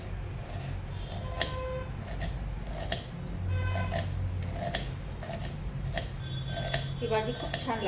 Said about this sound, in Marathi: कांदा बारीक कापून घ्यायचा आहे.